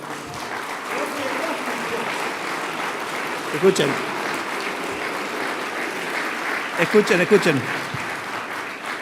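Audience at a political speech applauding, a steady crowd of clapping and murmur running the whole time, with a few louder bursts and a voice speaking over it briefly.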